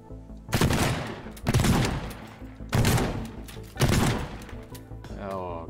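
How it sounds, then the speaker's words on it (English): A shotgun fires in the video game Teardown, with four heavy blasts spaced about a second apart, each one loud and close and followed by a short decaying rumble. "Can we shotgun that?"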